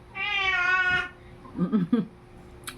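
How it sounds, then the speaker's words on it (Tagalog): A cat lets out one clear, drawn-out meow close by, followed by a few soft, short chirping sounds. "Dito na si Meow Meow."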